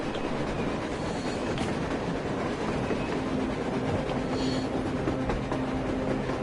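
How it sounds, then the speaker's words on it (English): A train in the video game Metro: Exodus rumbles past with continuous loud rolling noise and faint rhythmic clatter of wheels on rails, with no voices. "A train! A damn train on the surface!"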